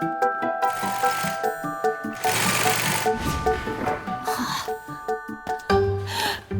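A sewing machine stitching the back wall of a bouncy castle, rapid mechanical stitching bursts starting and stopping, mixed with light jingly background music and tinkling tones.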